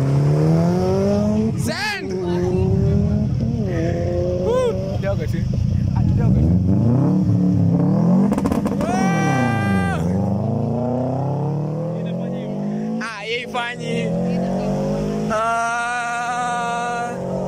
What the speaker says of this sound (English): Oh, burnout!